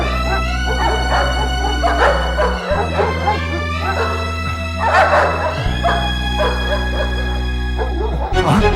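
A dog barks at night in a Malayalam film scene, several sharp barks and yips spaced out over a sustained low musical drone.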